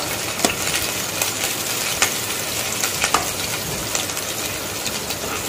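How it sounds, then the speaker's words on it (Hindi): Chopped green chillies sauté in hot oil for egg fried rice, giving a steady loud sizzle with scattered crackles and pops and occasional stirring scrapes, no voices. "इसको थोड़ा सोते करेंगे।"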